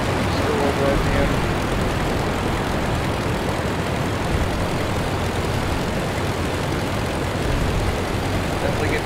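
Droning WWI aircraft engine in the flight sim Rise of Flight, a steady broadband roar that stays loud and unbroken throughout.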